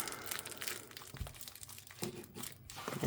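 Tape being torn and peeled off a knife package, a quick series of crinkling, ripping and crunching noises, close by and fairly quiet, with no talk.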